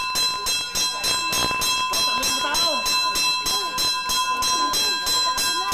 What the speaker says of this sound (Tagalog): Tuloy-tuloy na pagpatingting ng bell na hudyat ng pagpapalikas sa mga tao.